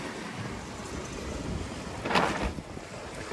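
A sailboat's sail pops and flaps in strong wind while cruising the Intracoastal Waterway, with one sharp burst standing out over steady wind and water noise.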